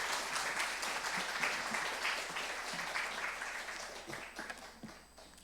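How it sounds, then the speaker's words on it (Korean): Church congregation at a Sunday worship service clapping to welcome a visiting pastor, a full, even round of applause that gradually thins and fades toward the end, with a few sparse claps lingering. "우리 더원 사랑에게 따뜻한 마음으로 우리 박수로 환영하도록 하겠습니다."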